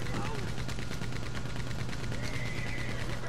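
A Gatling gun rattles off a rapid stream of shots in Red Dead Redemption 2 Online during a hideout raid, the evenly spaced bursts continuous and fairly loud beneath the game's background noise.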